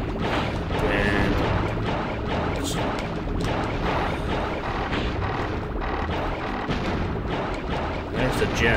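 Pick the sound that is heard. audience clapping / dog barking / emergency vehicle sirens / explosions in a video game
explosions in a video game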